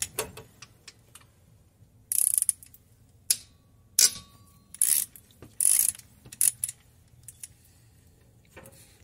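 Mechanical clicks and ratcheting from the belt tensioner on a 1995 Holden Rodeo engine as it is loosened, a series of short sharp bursts and ticks in bursts with quiet gaps, close and fairly loud.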